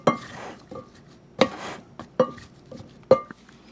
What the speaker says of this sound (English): we'll just stir it up